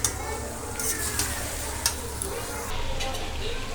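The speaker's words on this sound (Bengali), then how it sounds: "এক কড়াই মাংস তো, যার জন্য নাড়া যাচ্ছে না" Chicken frying in a large, overfull wok and being stirred, with a steady sizzle underneath, occasional scraping knocks from the spoon, and soft voices in the background.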